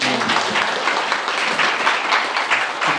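A room full of people at a book talk concert applauds warmly, a continuous, even patter of clapping hands that holds steady throughout.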